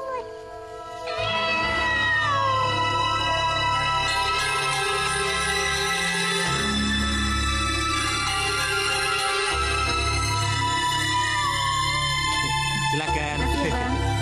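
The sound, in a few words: cat meowing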